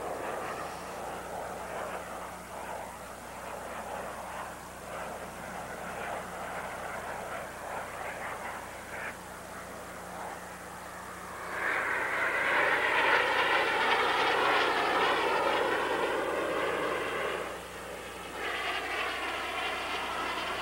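Snowbirds aerobatic jets at an airshow. A steady roar of aircraft engines passes overhead and swells louder in the second half before easing.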